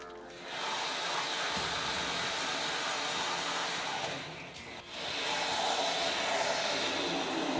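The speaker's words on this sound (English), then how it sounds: "Now we're pumping foam into the foam instead of it just dropping away" A loud, steady machine hiss and rush as insulation foam is pumped into a cellar wall, pausing briefly midway, then resuming at full strength.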